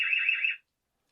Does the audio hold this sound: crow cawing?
no